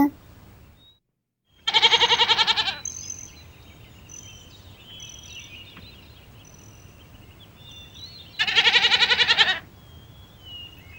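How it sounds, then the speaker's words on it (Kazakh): A goat gives two long, loud, quavering bleats several seconds apart, with a faint background hiss in between. "ешкі"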